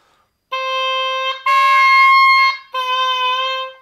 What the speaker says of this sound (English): I'm not sliding. Sliding sounds like this.